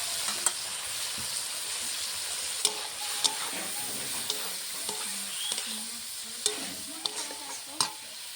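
Chopped vegetables frying with onions in fish oil in a pan, a steady sizzle under repeated stirring scrapes and light utensil knocks, close and continuous.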